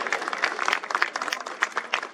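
An audience at a political gathering and luncheon claps steadily to welcome a speaker, a sustained, dense round of applause from a sizable crowd that continues throughout.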